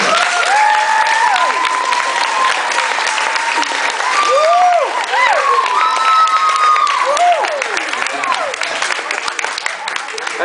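A hypnotist show audience applauds and cheers loudly for paramedics, sustained clapping with whoops and shouting voices rising and falling over it.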